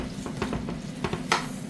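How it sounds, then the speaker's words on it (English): Soft sizzling of onions frying in a pan with a few scraping stirs and light clinks of a utensil, close and fairly quiet. "I'm currently frying up some onions"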